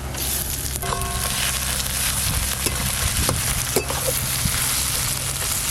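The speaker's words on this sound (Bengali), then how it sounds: "আদা রসুন পেঁয়াজ তো ভাজতে একটু বাকি আছে।" Onion, ginger and garlic paste sizzle steadily in a hot pan for a chicken curry, a continuous close frying hiss with a few soft clicks and stirring taps throughout, no talking.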